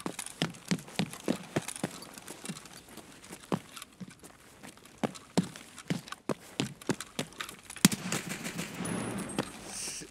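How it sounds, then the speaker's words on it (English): Heavy gunfire from a large rifle in Escape from Tarkov, a rapid string of sharp shots in bursts, some close and loud, others spaced apart, with no talking. "That is a big boom gun."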